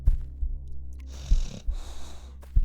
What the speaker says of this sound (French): J'entends des ronflements.